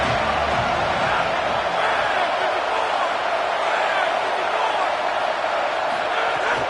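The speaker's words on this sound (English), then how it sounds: "Decibels rising as the crowd gets behind this defense on third down." Stadium crowd noise from a football video game during a third-down defensive stand, a dense, steady roar of cheering that holds loud and even throughout with no pause.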